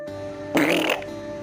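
A single loud, close fart lasting under half a second, sharp and buzzy, breaks over a steady electrical hum.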